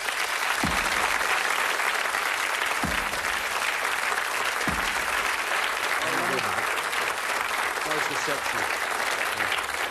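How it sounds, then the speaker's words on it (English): Steady, dense applause from a darts audience at a charity throw, loud and continuous throughout, with a few low thumps and faint voices mixed in. "a nice round of applause for Ronnie Sharp"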